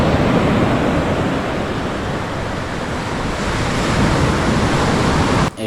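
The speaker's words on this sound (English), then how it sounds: "here's some sounds of the sea." Sea waves wash onto the rocky shore of Aphrodite's beach near Paphos, Cyprus, in a loud, continuous roar of surf with wind, steady and close throughout.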